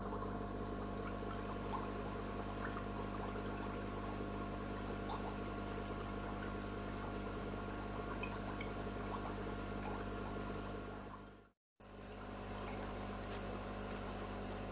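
Aquarium sponge filter running in a Juwel Vision 260 fish tank, giving a steady bubbling, pumping hum that fills the scene evenly and breaks off once briefly.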